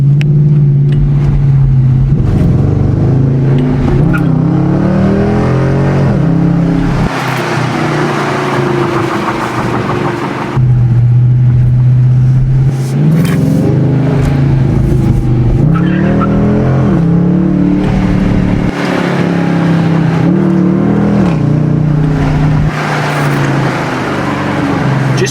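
2020 Dodge Challenger R/T V8 in sport mode, loud engine roar rising and falling as the transmission downshifts and upshifts repeatedly, close and steady with no talk.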